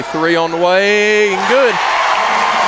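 A home crowd at a high school basketball game between Knott Central and Breathitt County erupts in a broad roar of cheering after a three-pointer, swelling behind an excited announcer's call and carrying on loudly once he pauses.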